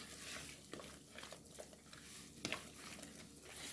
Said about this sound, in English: we're gonna give that a good mix to combine